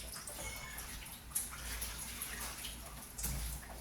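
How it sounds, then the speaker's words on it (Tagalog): Water is poured into a cooking pot on a farm, a faint, steady splashing trickle with small louder splashes, heard quietly and alone. "So, lalagyan na naman natin siya ng tubig para doon sa ipang luluto natin."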